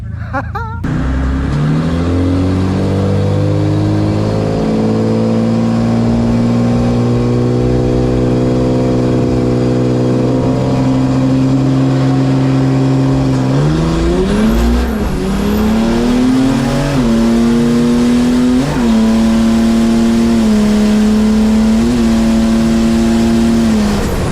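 A big-turbo Mercedes OM606 diesel race car launching at Rocky Mountain Race Week, a loud, close engine roar climbing through long sustained pulls with gear changes midway and a continuing high-revving drone to the end.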